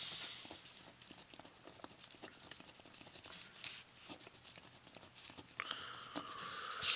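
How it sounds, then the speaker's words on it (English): Writing on paper: a pen or pencil scratches in quick, irregular strokes, close and quiet, with soft taps between marks and a brief brighter scrape near the end, with no voices. "so I'd write those down."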